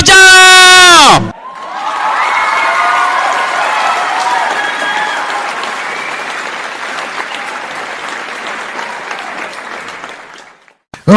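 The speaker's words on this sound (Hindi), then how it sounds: "please put your hands together and help me welcome on the stage Diamond Going Camp, Konkon Bhattacharya" An audience breaks into loud, sustained applause with cheers and whoops as a speaker is welcomed onto a stage, a dense wash of clapping that slowly thins toward the end after a brief burst of other sound at the start.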